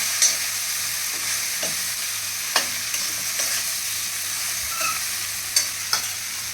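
Okra (bhindi) frying in a pan with salt, stirred in a few scattered scrapes and clicks over a steady sizzle, close and moderately loud with no talking.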